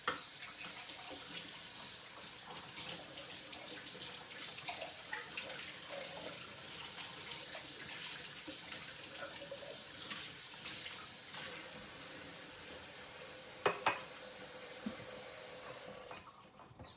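A kitchen tap runs steadily into a sink as a jug of lemon water is emptied and refilled, a continuous watery hiss with a few brief clinks near the end.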